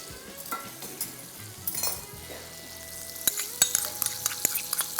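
Chopped tomato and cream frying in a pan for creamy pasta, stirred with a utensil: a steady low sizzle with scattered scraping and clinks of the spoon against the pan, growing busier near the end, no talking.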